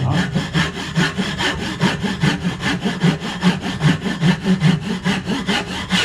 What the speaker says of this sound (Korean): 그리고 저는 양면에서 자를 겁니다. 양쪽에서.